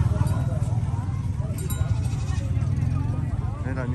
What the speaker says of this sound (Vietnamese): Đây là những cái chú dê